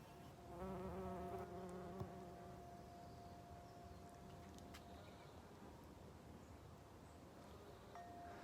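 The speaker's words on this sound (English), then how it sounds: "The bees are loving the meadow right now. They are literally buzzing all day long." Bees buzzing steadily over a garden meadow, close and continuous, with a brief louder drone passing near the start.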